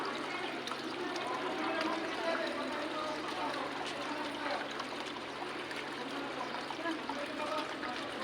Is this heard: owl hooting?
no